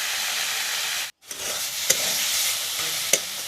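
Leafy greens stir-frying in a pan give a steady close sizzle with a brief drop to near silence, then two sharp utensil clicks against the pan over the continuing frying hiss.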